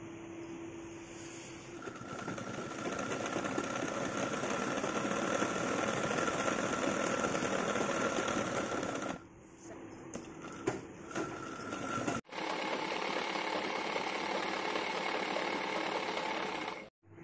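A sewing machine stitching a fall onto a saree runs in steady whirring bursts at close range, pausing briefly twice before resuming its continuous mechanical hum.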